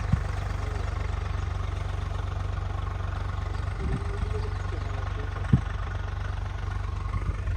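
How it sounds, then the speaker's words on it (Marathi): A tractor engine idles with a steady low rumble, continuous and fairly close, with a faint knock or two partway through. "राघव पहिल्यांदाच ट्रॅक्टर बघतोय"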